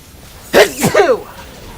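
A single sharp sneeze in the Pokémon Legends Z-A video game, a quick intake followed by a bright burst and a short trailing exhale, close and alone.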